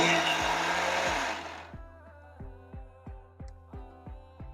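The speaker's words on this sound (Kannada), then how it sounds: "ಸ್ವಲ್ಪ ಗ್ರರ್ ಅಂತ ಹೇಳಿ ದರದರನೇ ನಾವು ಗ್ರೈಂಡ್ ಮಾಡಬೇಕು" A mixer grinder coarsely grinds dry chilli, ginger and sugar, running at a loud roar for over a second before stopping. It then gives a series of short, evenly spaced pulses, each a brief burst of whirring.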